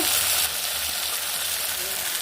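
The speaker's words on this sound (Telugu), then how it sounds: "నూనె చాలా మంచిగా మరిగిపోయింది. వంకాయలన్నీ వేసుకుంటున్నాను." Brinjals frying in hot oil, a steady loud sizzle with a brief sharper burst at the start, continuous and close.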